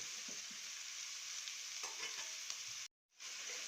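Onions sautéing in a pan for an oven chicken-and-onion tray dish give a steady, close frying hiss with faint stirring scrapes, briefly cutting out near the end before resuming.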